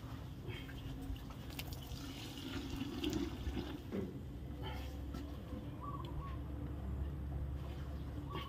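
Azolla being washed by hand in a half bucket of water before feeding chickens: faint, continuous sloshing and splashing over a low background hum, with a few small clunks.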